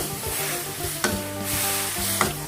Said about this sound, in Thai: เคี่ยวจนกว่าน้ำตาลกับน้ำปลาจะเข้ากัน